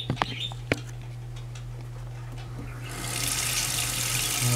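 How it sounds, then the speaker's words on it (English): Water runs from a tap as deep conditioner is rinsed out of hair, starting with faint flow and a few clicks, then swelling into a loud, steady hiss of running water at close range. "So let's rinse out her deep conditioner and prep up for her roller set."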